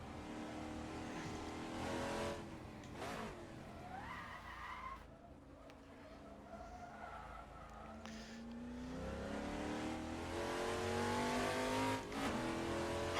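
A Group C touring car accelerates hard in the racing game Assetto Corsa, its engine note climbing through the gears in rising sweeps with brief shift dips, loud and close, with tire squeal woven through.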